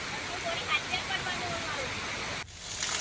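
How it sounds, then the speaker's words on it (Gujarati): A waterfall in the Aravalli hills runs full after days of heavy rain, giving a steady broadband rushing roar that holds evenly, then dips sharply for a moment near the end before returning. "આ ધોધ વહે છે, જેને જોવા માટે ઘણા સહેલાણીઓ પણ આવતા હોય છે"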